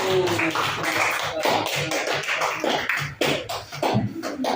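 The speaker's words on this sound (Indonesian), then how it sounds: "tepuk tangan untuk kelompok 1" A classroom group applauds group 1 after their presentation, with dense clapping from many hands running steadily through the whole stretch, loud and close, with a few brief voices mixed in.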